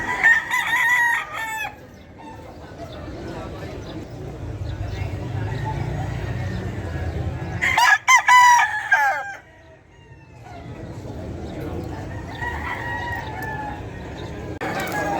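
Golden boy roosters crow repeatedly at a Malabon pet market, the loud calls rising over a busy crowd with clucking and people talking throughout.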